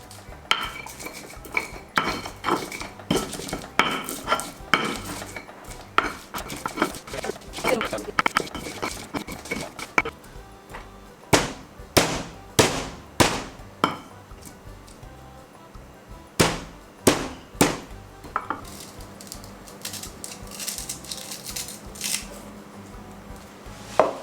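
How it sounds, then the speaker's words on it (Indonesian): Garlic and shallots ground in a mortar and pestle for a sayur lodeh spice paste: irregular scraping grinds, then bursts of sharp, close stone-on-stone knocks in quick clusters, with someone talking alongside. "Kita mulai ngulek-ngulek."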